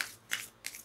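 Tarot cards are shuffled by hand in three quick, quiet riffling bursts, soft and close with short gaps between them.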